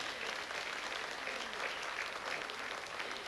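An audience at a festive music show applauds an upcoming guest, a dense, steady wash of clapping from a crowd that holds at an even level for a few seconds.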